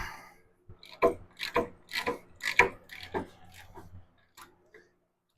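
A half-inch drive ratchet turns a 14 mm bolt on a Ducati 900SS fork, giving a run of close, rasping clicks in bursts that fade out toward the end.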